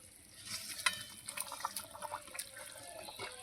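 A spoon stirs the gravy of a Bengali pangas fish curry (tel jhal) in a pan, giving soft wet scraping and a few sharp clicks over a low bubbling simmer, close and fairly quiet.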